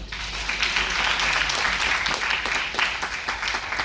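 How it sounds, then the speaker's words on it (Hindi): An audience at a Hindi poetry recital for the IIT (ISM) centenary celebration breaks into dense, steady applause that fills the whole stretch at a loud, even level. "तालियां बजाइए"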